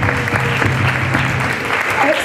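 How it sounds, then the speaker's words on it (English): An audience at a Somali youth awards night claps in a dense, steady wash of applause, loud and close, with a voice over it. "Let's give them a huge round of applause."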